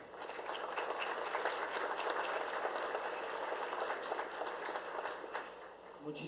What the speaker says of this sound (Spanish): Demos un fuerte aplauso a nuestro conferencista.